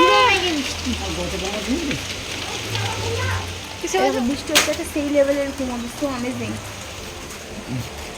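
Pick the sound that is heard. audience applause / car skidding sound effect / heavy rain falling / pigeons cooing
heavy rain falling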